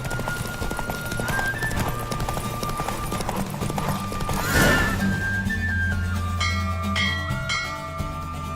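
Rhythmic clip-clop of galloping hooves in The Witcher 3: Wild Hunt, a horse whinnying midway over steady game music; a bell-like chime rings out near the end.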